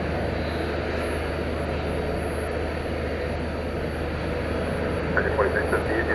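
A Frontier airliner arriving at DFW Airport in the evening gives a steady, distant engine roar that holds at an even level, with a few faint higher chirps near the end.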